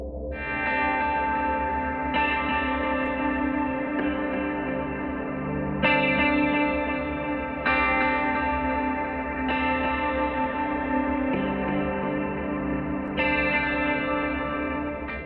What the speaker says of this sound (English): There is a difference between polyphony and the automated chorus effect.